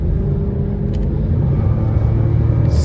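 A 2006 Cadillac XLR roadster with a Northstar V8, heard from inside during rush hour traffic, gives a loud, steady low engine rumble under throttle.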